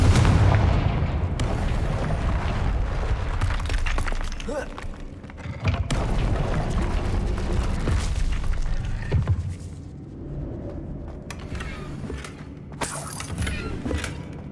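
Fiery blasts from the Confringo spell in the Hogwarts Legacy video game, a run of loud booming explosions and crackling impacts with shattering debris, dense and continuous before thinning into scattered bursts.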